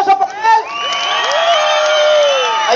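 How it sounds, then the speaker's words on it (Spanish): A crowd cheers, whoops and shouts at a children's contest during a jaripeo rodeo in Guanajuato, with high excited voices rising over a steady roar of applause that swells and holds throughout. "¡Y un fuerte aplauso para él!"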